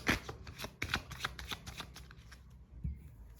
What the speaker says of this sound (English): so shuffling your cards